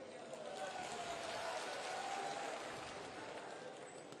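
A large audience at a Rajnath Singh political speech applauds in a dense, steady wash of clapping that holds evenly for several seconds, fairly soft and distant, with a faint voice barely present beneath.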